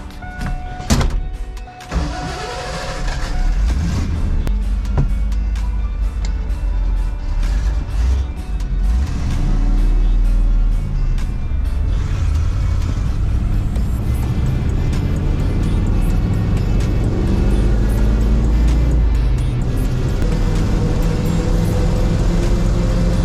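A ZF5-swapped Ford Bronco on big wheels with freshly aired tires is driven, its engine droning loudly and steadily with rising and falling revs, alongside road and cabin rumble from a close, in-vehicle perspective.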